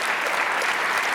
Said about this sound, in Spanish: Fuerte el aplauso para todos ellos, para la Orquesta de Música Popular, Memo Sa